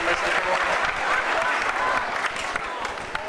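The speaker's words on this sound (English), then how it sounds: "How about a round of applause for all 3 of our aliens?" An audience at a Universal Studios stage show applauds performers dressed as aliens, a sustained, dense crowd clapping that stays loud throughout with scattered voices mixed in.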